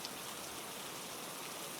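Soft, steady rain patters evenly on a surface, a faint, continuous hiss of drops with no other sounds.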